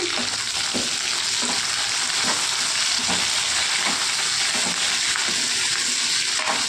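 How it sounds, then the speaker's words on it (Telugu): Tender curry leaves and green chillies hit generous hot oil as a tempering for a brinjal and cucumber chutney, producing a loud, steady, close sizzle with faint rhythmic stirring scrapes and no speech. "కరివేపాకు వేసుకుందాం మనం"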